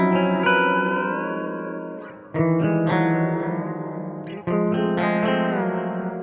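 Guitar run through a Klowra Vein 2.0 pitch shifter pedal set to two random intervals, giving sustained, detuned harmonised chords that are struck three times and ring out with a wet, effects-heavy tail, loud and alone.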